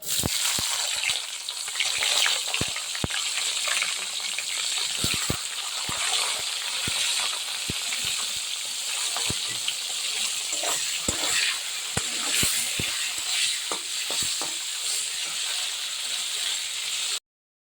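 Chopped tomatoes frying in a pan with spices for vegetarian khichuri, a steady close sizzle with scattered sharp pops and crackles throughout, no talk.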